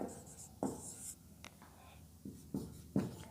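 Pen writing a third example sentence during an English grammar lesson on adjectives, with faint scratching strokes and a few sharper taps, quiet and close amid soft background noise.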